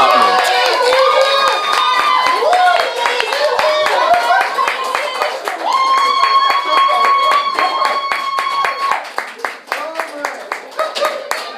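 A large crowd at a competition final applauds and cheers, with dense rapid clapping and shouts going on throughout, and an announcer's voice carrying over it.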